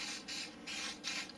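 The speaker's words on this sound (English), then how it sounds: "I'll spray the outside as well." Three short hissing bursts of Ballistol cleaner from an aerosol can are sprayed onto a Glock 19 9mm pistol, each a close, rasping spray separated by brief pauses.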